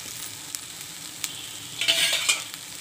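Vegetables such as okra and eggplant frying over low heat in a pan while being stirred, a soft steady sizzle with a few scraping stir strokes and a louder burst of sizzling near the end.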